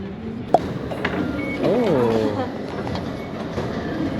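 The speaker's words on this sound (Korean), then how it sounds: "첫 지하철이다." An Almaty metro subway train rumbles steadily, with a sharp click near the start and a rising whine partway through, while a person talks briefly.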